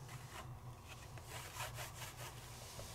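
Fingertip rubbing back and forth over a design on a Sizzix silicone pad, a soft, close, rhythmic scraping friction, quiet and continuous, with nobody talking.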